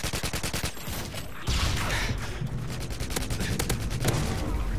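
Rapid automatic gunfire in the shooter game Call of Duty: Modern Warfare 2 comes as dense rattling bursts, with a short pause before heavier, sustained firing resumes.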